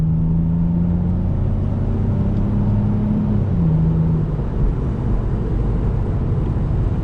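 A Lexus IS300 with an aftermarket intake drones steadily from inside the cabin while driving, a loud, continuous low engine hum with faint shifting tones and no talking.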